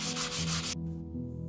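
Sandpaper rubs in quick, even strokes over a CNC-cut wooden duck carving, loud and close, then stops abruptly partway through, leaving a low background hum.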